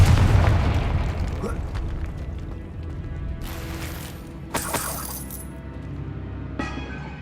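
A Confringo blasting spell in Hogwarts Legacy on PS5 explodes with a heavy low boom that rolls off slowly, then sharp crackling bursts and bright sparkly hits follow over the next few seconds.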